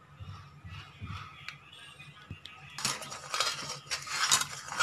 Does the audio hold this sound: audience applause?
no